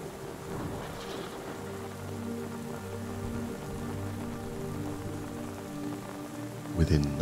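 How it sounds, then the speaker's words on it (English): Rain patters steadily on the ground and on tent canvas, a soft continuous hiss with low rumbling underneath and a brief louder burst of drops near the end. "Listening to the sound of the rain on the ground and on the canvas"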